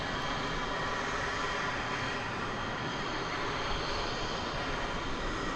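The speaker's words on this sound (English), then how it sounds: "American Flight 1034 coming in from Guadalajara in Mexico" An American Airlines Boeing 737-800 arriving at DFW from Guadalajara sounds as a faint, distant, even jet rumble and hiss that holds steady throughout, with no voices.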